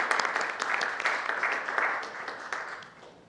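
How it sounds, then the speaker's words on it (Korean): An audience claps at a youth smoking-prevention policy research club award ceremony, a lively burst of many hands that starts strong and gradually fades. "박수 부탁드립니다."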